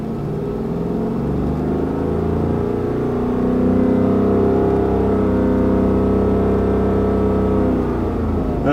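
A car engine is revved from idle up to around 3,000–4,000 RPM, a steady droning roar that swells near the middle and holds loud and close, with no talking over it.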